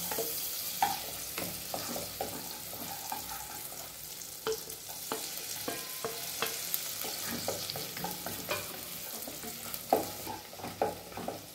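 Finely chopped garlic dropped into melting butter in a pan, sizzling steadily with frequent sharp spatula scrapes and stirring clatter. The sound is fairly quiet and continuous, and nobody speaks.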